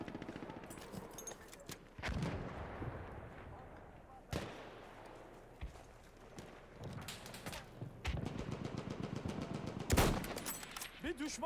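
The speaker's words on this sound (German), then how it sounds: "Ah, Mörser." Mortar fire in Battlefield 1, heavy booming impacts and blasts landing at irregular intervals amid rattling gunfire, with a player talking over the battlefield noise.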